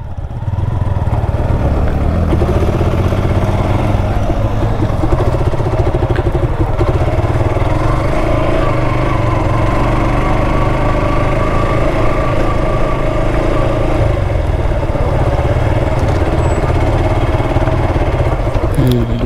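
A boat engine on the Jamuna River runs loud and close, a steady droning, clattering hum that holds evenly for nearly twenty seconds.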